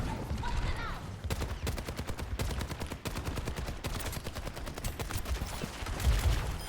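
Dense bursts of rapid gunfire and heavy thuds from the Overwatch video game, loud and continuous, with a deep boom near the end that fits a grenade blast.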